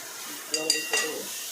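Minced meat with tomato and onion cooks in a pan, a soft sizzle with a few quick scraping clinks of a utensil near the middle.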